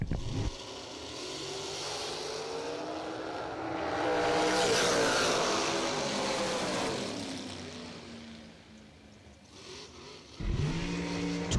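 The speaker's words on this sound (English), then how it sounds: "Derek Klein right side 507 in the Hot Shots vehicle" Race cars at a motorsport event, likely drag racing, with engines roaring loudly and swelling to a peak before fading, then a fresh burst of engine noise near the end.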